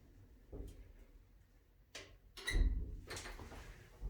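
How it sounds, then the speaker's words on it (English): A manual door on a vintage Otis black-button traction elevator in a condo building slides and latches shut, a few soft clunks and rattles ending in a firmer thud, fairly quiet and close. "Let the door close."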